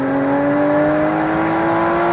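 A 2015 Aston Martin V12 Vantage S's V12 engine revs in a loud, steady drone with pitch slowly climbing as it pulls harder, heard up close with no talking.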